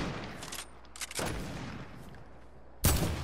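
Video game gunfire in a multiplayer shooter fight, a few separate bursts of shots with loud broadband cracks, the sharpest one near the end, over steady background noise.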